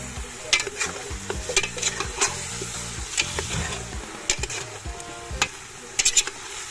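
A pot of caldereta being stirred, with a constant sizzle and irregular clinks and scrapes of a spoon against the pot, close by and without speech.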